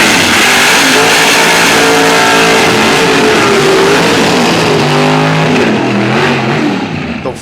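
Mountain Motor Pro Stock drag cars roar at full throttle, loud and close, with a sustained engine howl whose pitch climbs through gear changes before easing slightly at the end.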